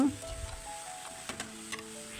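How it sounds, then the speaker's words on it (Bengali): Vegetables frying in a pan for a vegetarian curry are stirred, giving a faint, steady sizzle with a few soft scrapes and clinks, and a steady hum is heard underneath. "এখন একটু লেড়ে চেড়ে তারপর ঢেকে দেব"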